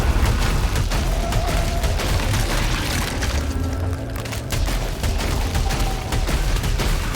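Secondary fire from a weapon in a video game during a fight with a big monster: a dense, continuous barrage of loud shots and bursts runs throughout, with no pause.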